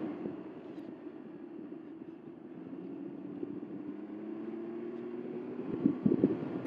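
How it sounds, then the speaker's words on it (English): A Can-Am Ryker 900 three-wheel motorcycle cruising along a road, its steady low engine drone mixed with wind rush at the microphone, growing slightly louder and rougher toward the end. "I just like to get on my bike and ride"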